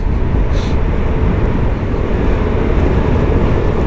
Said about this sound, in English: I'm riding a 2006 Vespa GTS 250IE